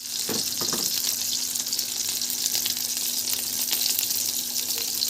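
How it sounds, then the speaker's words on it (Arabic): Meat rolls frying in oil in a pan give a steady, close sizzle and crackle that holds evenly, with a few brief clinks of a utensil near the start and no talking. "وهنقليها في الطاسه"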